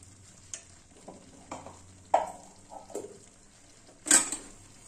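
Fried spices are stirred into a vegetarian cabbage curry in a pan, a handful of separate spatula scrapes and clinks against the metal over a faint background sizzle.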